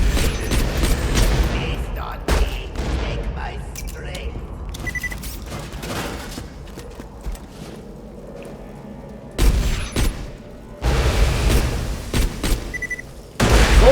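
Gunfire in Borderlands 2 from a Hyperion weapon with reverse recoil, heard as repeated loud bursts and booms spread across the stretch, with a game voice talking between the shots.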